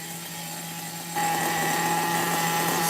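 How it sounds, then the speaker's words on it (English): A restored Megatech nitro RC car engine idles with a steady high-pitched buzzing drone, close and continuous, stepping up slightly louder partway through. "I'm just idling this Megatech for now"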